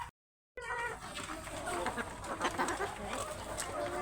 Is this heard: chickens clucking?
yes